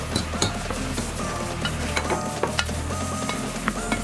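Fried cauliflower for Gobi Manchurian is stirred into a pan of boiling gravy. A loud, continuous sizzle carries irregular scraping and clinking strokes from the stirring.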